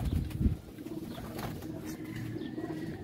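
Pigeons in a breeding loft give soft, repeated throaty coos at close range, with low background noise between the calls.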